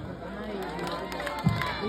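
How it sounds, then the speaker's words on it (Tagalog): Crowd at a gay beauty pageant cheering and clapping, a noisy mix of shouts and chatter throughout with a brief louder burst near the end. "Bakit hindi niyo po ako sabay-sabay palakpakan at hiyawan"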